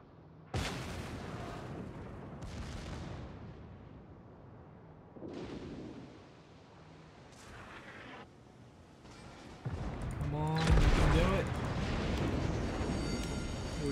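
Naval gunfire and high-explosive shell impacts in the World of Warships game: a loud opening blast, then several more heavy booms spaced a few seconds apart, ending in a dense, rumbling barrage of hits with crackling and mechanical noise.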